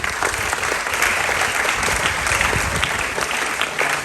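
Students applaud at the launch of an agricultural technology park at a university, a dense, steady patter of many clapping hands sustained throughout with no gaps.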